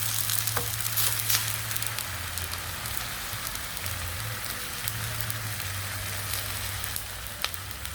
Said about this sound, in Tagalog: Gisahin lang po yung ating beef at siguraduhin po natin na medyo kulay brown po siya.